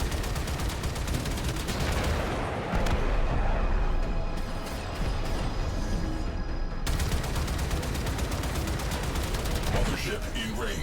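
Missiles fire in a Warframe battle as a dense barrage of rapid explosive bursts and booms. The bursts pound steadily for about eleven seconds, loud and close, with a brief shift in texture midway.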